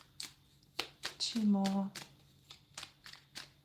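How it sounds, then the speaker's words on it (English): Tarot cards are shuffled by hand in quick, crisp riffling clicks, with a short whistling tone partway through and a person speaking briefly over the shuffling. "Let's shuffle."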